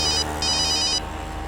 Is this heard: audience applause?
no